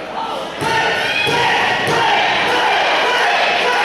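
Wrestling crowd at a Boys and Girls Club event roars steadily throughout, a dense sustained cheer with a few heavy thuds and slams near the ring.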